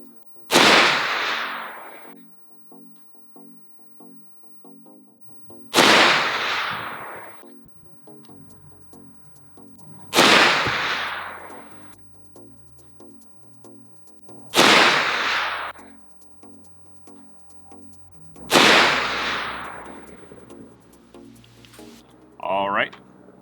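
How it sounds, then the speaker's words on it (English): Loud rifle shots from a Wilson Combat 458 SOCOM Recon Tactical AR-15 firing 300 grain loads, five sharp reports evenly spaced about five seconds apart, each with a short ringing decay and quiet outdoor background between. "So we're going to see what this load will do out of this rifle."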